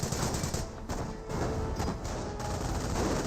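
MP42 machine gun laying down suppression fire in Company of Heroes, a steady, dense rattle of automatic fire with heavy low rumble and distant battle noise, unbroken across the whole stretch.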